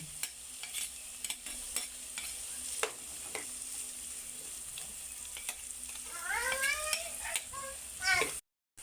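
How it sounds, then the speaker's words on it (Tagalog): Carrots frying in butter in a pan, a steady close sizzle with intermittent clinks and scrapes of stirring, the frying swelling louder and more crackly toward the end before cutting off abruptly. "Lagyan na natin yung carrots."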